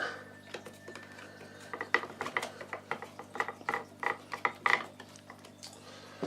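Screwdriver driving a screw back into a Dyson DC04 vacuum cleaner during a power switch repair, heard as a close series of quick clicking ratchet strokes in an irregular rhythm, with no talking.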